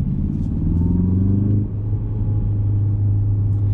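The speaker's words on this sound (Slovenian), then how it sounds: "Ta avto res nenormalno poka." Loud, steady engine and exhaust drone from a 2020 Ford Focus ST, a deep rumbling tone that dips briefly mid-way then holds on, with no voices.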